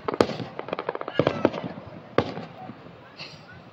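Rapid bursts of Fourth of July fireworks popping and crackling in a quick irregular series, a couple of louder bangs standing out, then a brief fizzing tail.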